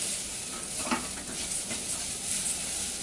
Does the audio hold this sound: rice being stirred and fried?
yes